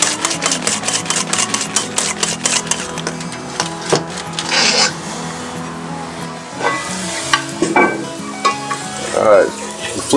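Eggs and a splash of milk are whisked in a bowl for a cast iron frittata, making rapid, clicky strokes that run in quick bursts with short pauses, close and fairly loud, with no voices.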